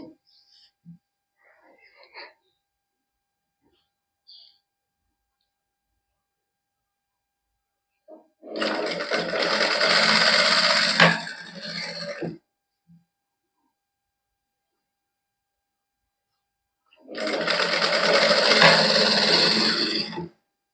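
Sewing machine stitching a kameez hem, running in two separate loud bursts of steady whirring, each lasting a few seconds, with quiet pauses and faint handling noises between them.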